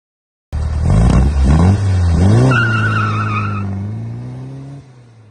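A 1957 oval-window VW Beetle with its air-cooled flat-four running close by, a steady low idle rising in a couple of quick throttle blips before settling back to an even, slightly climbing drone.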